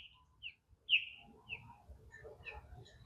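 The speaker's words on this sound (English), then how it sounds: "Ah, osprey. Couple of them." Ospreys calling near a lakeside dock at a Washington state park, sharp high chirps standing out early and then repeating more softly over a low outdoor rumble, with a couple of birds audible.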